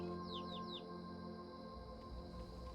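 Three quick descending chirps from birds in the Skyrim game world, faint and close together at the start, over a steady low ambient hum that continues alone afterward.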